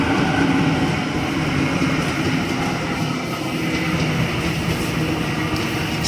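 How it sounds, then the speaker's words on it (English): Sydney train A64 arriving at platform 1 on a City Circle via Granville service, a loud continuous rumble and roar of wheels and motors close by, steady throughout without voices. "While we have A64 now arriving on platform number 1, City Circle Fire Granville service."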